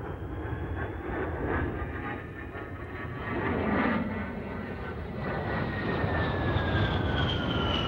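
A military jet, one of a Magister, A-10 Thunderbolt II, AV-8B Harrier or F-4 Phantom at a 1988 air show, roars low past the runway in a loud, sustained engine rush that swells and holds without any talk.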